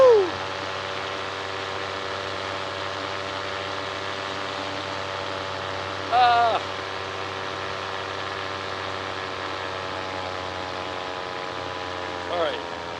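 A paramotor engine drones steadily in flight, a continuous mid-pitched motor hum with a few brief rising whistles or voice-like sounds over it.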